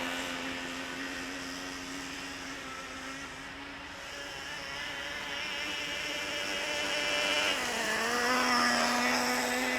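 A Traxxas Revo 3.3 nitro RC truck engine buzzes steadily as it warms up outdoors in cool weather, a thin high whine heard at moderate distance that rises in pitch near the end.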